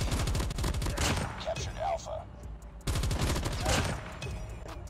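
S36 rifle fire in the mobile game Call of Duty Mobile rattles in rapid automatic bursts, loud and close, with a brief pause midway before another long volley.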